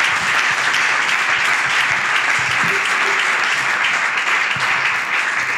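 A church congregation applauds the Lord after a testimony, sustained loud clapping from a large crowd that holds steady throughout without a break.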